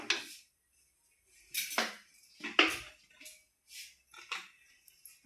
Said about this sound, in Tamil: அப்படியே கிண்டி மூடி வச்சுக்கிடுவோம்